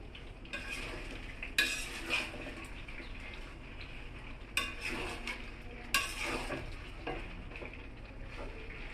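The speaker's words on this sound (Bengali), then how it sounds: "এখন একটু নেড়ে চেড়ে দিচ্ছি।" Chicken stirred in a pan with homemade ghee, with a steady low frying hiss under occasional scraping and clinking strokes of a spoon, fairly quiet and close.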